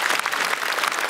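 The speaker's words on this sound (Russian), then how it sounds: "Мария, вам аплодисменты звучат" Comedy Club studio audience applauds a guest named Maria in a short, dense burst of even clapping with no voices over it.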